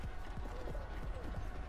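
Horse hooves clip-clop in a steady galloping rhythm during a video game horse race, low thudding beats repeating close and continuous over a busy background.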